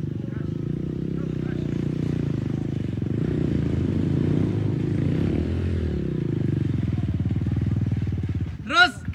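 Harley-Davidson motorcycles ride a dirt trail, a loud, close, low engine rumble with steady throttle and scraping clatter, voices briefly shouting near the end.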